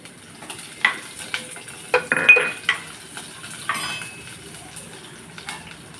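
Shallots fry in a pan while a spoon stirs them, giving a steady soft sizzle broken by several sharp metal scrapes and clinks against the pan, close up and with no talking.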